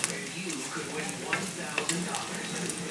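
Chicken pieces for coq au vin brown in rendered grease in a pan, a steady close sizzle and crackle with occasional scrapes of a utensil, no talking.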